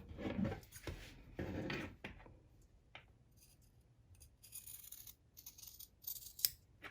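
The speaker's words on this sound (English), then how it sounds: "you're going to trim super close all around the areas that you have just sewn" Scissors trim fabric close to freshly sewn seams on a boho tote, giving a few quiet, close snips early on, followed by softer rustling and sparse cuts.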